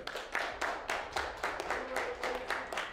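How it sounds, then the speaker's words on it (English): A small group clapping together in a room, a rhythmic series of distinct, fairly faint claps at an even pace. "Let's clap it up for Block 30."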